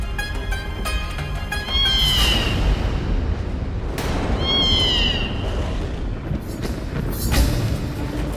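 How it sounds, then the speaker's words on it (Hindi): A black cat meows twice, loud and close, each a rising-falling cry over a dense, steady background of dramatic music or ambience in a period drama scene. "काली बिल्ली"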